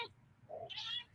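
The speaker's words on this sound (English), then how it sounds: "So I have a cat to pet." A house cat gives a short, soft meow-like call with a rising tail, quiet and close, with no talking.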